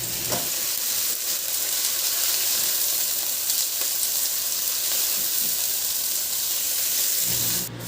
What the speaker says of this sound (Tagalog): Igisa ko na rin yung sibuyas. Ilagay ko na rin yung kamatis.